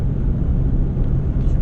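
A car engine rumbles steadily and loudly during a driving lesson, a low continuous drone that holds its level throughout with no clear rise in pitch.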